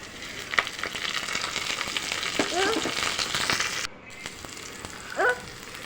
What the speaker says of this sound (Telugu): ఇంకా కొంచెం అవి వేగాక కరివేపాకు వేసాను.